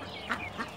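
Hens on a chicken farm give a couple of quick, soft clucks, close by and brief, over a faint steady barn hum.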